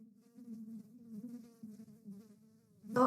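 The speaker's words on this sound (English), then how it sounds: "as quickly as you can hear the buzzing" An insect buzzes steadily at low volume, a droning hum that wavers in pitch and swells near the end as if passing close by.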